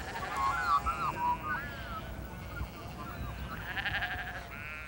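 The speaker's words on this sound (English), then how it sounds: "Most of a sheep's life is spent on New Zealand's hillsides." Sheep bleat on a New Zealand hillside farm: a few wavering calls, moderately near, then another bleat later, over a constant rumble of outdoor background noise.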